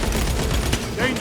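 Bolter gunfire in Space Marine II rattles in a dense, loud burst of rapid shots, layered with heavy game combat noise and a voice speaking over it.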